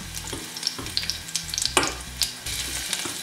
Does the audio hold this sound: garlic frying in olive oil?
yes